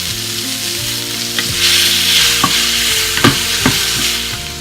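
Strips of peppers fry in a pan with ground cumin, salt and dried Mexican oregano, giving a loud continuous sizzle broken by several sharp scrapes and clacks of stirring.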